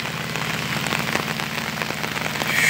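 Heavy rain falls steadily at the São Francisco river, a dense hiss of drops on surfaces with a low engine-like hum underneath, building slightly louder toward the end.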